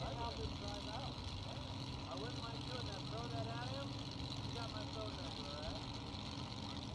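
A front-engine dragster's big engine idles at a nostalgia drag race with a low, steady rumble and lopey throb, loud and close, running continuously throughout.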